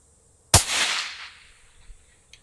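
A single loud shot from a Desert Tech SRS M2 rifle in .338 Lapua Magnum cracks close by, followed by a long rolling echo that fades over about a second across open ground.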